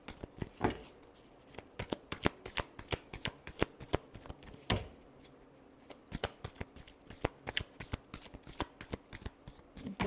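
Tarot cards are shuffled up close in a steady, rapid run of crisp riffling slaps and flutters, with a brief pause midway, and no voices over them.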